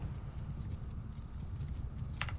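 Horse hooves clip-clop steadily in a video game battle, a dense rapid clatter of many riders moving together, fairly loud and continuous with no talk over it.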